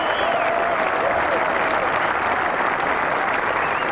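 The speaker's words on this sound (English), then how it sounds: "Listen to the crowd." Gallery applause at the 1998 Presidents Cup golf event, a thick, loud, unbroken roar of clapping with a faint whistle early on.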